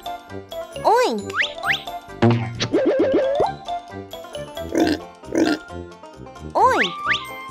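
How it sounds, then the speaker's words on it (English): A pig oinks in a few short bursts, set among bright cartoon-like jingles, boings and swooping sound effects. "Oink."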